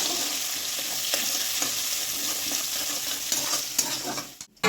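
Onions with cardamom, cinnamon, cloves and peppercorns fry together for palak chicken, giving a steady close sizzle with occasional stirring scrapes, then a brief clatter at the end.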